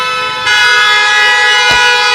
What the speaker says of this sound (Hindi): यार तुम हॉर्न दे लो पहले